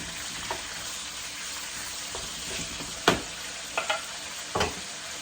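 Kale cooks in a pan on low heat, a soft continuous sizzle with a few sharp scrapes and taps of a utensil scattered through, fairly quiet overall.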